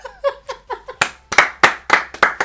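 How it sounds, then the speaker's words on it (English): A short round of clapping: a few crisp, fairly close hand claps in an uneven rhythm after a brief moment of voices. "Round of applause."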